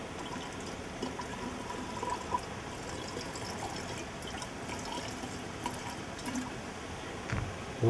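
Water being poured into a container alongside petrol, a soft continuous trickle and splash running steadily at low level throughout, with no talk over it.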